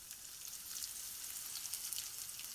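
Mustard seeds, curry leaves and chopped onion fry in hot oil, giving a soft, continuous sizzle with faint crackles, fairly quiet and alone without talk.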